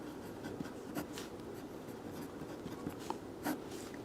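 Pen scratching on paper as a teacher writes out a Class 9 geometry problem on lines and angles; soft, steady, close strokes with a few slightly sharper ticks, no talking.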